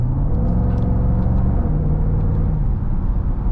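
A Jaguar F-Pace SVR's V8 rumbles steadily while driving, a deep, continuous low drone with a smooth layered tone heard from inside the SUV, no voices over it.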